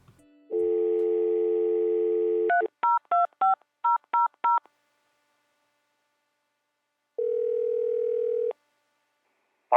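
A telephone line plays a steady dial tone, then a quick series of DTMF keypad beeps, followed by a silence and a second short tone, clear over a faint mains hum.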